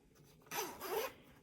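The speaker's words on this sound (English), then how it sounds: "And this one zips open" Zipper pulled open on a fabric sewing tool case, a single quick rasping zip lasting about half a second, close and fairly quiet.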